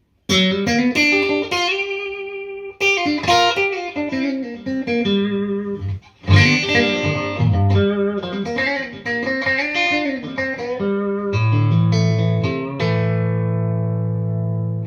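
Clean electric guitar, a Squier Classic Vibe 50's Telecaster made in Indonesia, on the middle pickup position, with a slightly brighter, thinner tone playing melodic phrases and chords, closing on a held chord that rings out.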